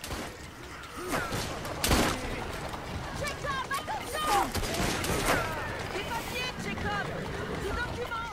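Gunfire in Assassin's Creed Syndicate: a few sharp shots stand out against a busy game soundscape with creaking mechanisms and water, while someone talks excitedly over it.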